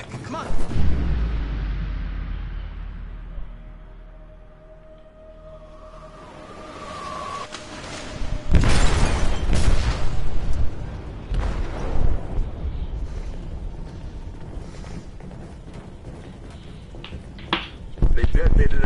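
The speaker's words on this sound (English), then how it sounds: "They detonated an explosive in the hold." A ship's hold blows apart in a video game with a deep, loud booming blast, then rumbling debris and another heavy burst, under shouting and voices of a player and in-game characters.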